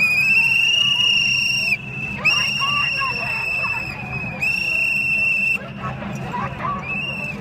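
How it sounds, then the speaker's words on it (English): Shrill whistles blown by a crowd of protesters sound in long sustained blasts that break off and restart, loud over a murmur of crowd noise. "a bunch of kids blowing whistles"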